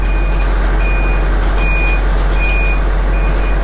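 A truck reversing off ramps, its backup alarm beeping in a steady, evenly spaced pattern, loud and close over a constant engine rumble.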